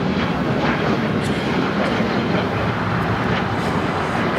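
Alaska Airlines Boeing 737 MAX 9 in San Francisco Giants livery taking off from LAX, a steady broadband jet roar that holds loud and constant throughout with a faint rumble underneath.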